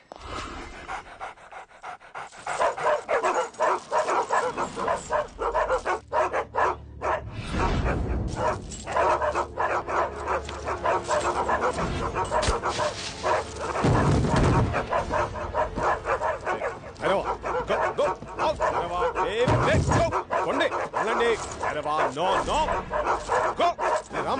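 A house dog reacts to an arriving visitor with repeated barks, yips and heavy panting, close by and persistent, while people talk over it.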